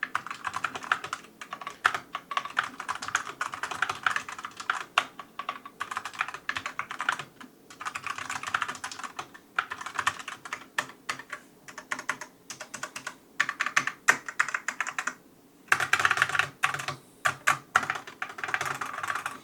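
Typing on a Lenovo K510 Mini Pro keyboard with plastic keycaps: a steady, close flurry of clacky keystrokes running the whole time, with short pauses and a brief gap before the typing resumes, no voices.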